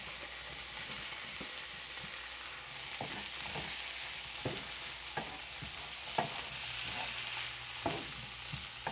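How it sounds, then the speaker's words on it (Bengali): Chopped onion and capsicum stir-fry with already fried chicken in a pan, a steady sizzle broken by regular scraping stir strokes, close and moderately loud with no talking. "আমি এখানে কেটে রাখা পেঁয়াজ আর ক্যাপসিকামটা দিয়ে দিলাম।"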